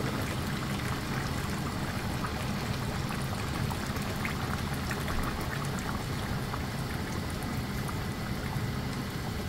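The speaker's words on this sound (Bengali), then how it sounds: "এই এখন পানিটা গরম পানিটা দিয়ে দিলাম" Hot water from a kettle is poured into a simmering chicken and cabbage curry, making a steady, close, continuous rushing and bubbling wash that runs unbroken throughout with no talk.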